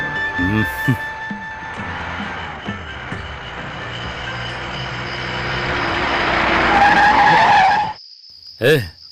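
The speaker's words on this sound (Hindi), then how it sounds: "गाड़ी क्यों रोक दी?" A car skids to a sudden stop on a road, its tyres screeching loudly and building in intensity for several seconds before cutting off abruptly, with voices heard around it.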